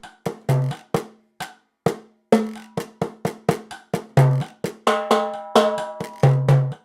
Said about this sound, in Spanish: La célula rítmica principal del danzón es el baqueteo.